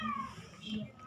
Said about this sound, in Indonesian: Kenapa tuh kucing?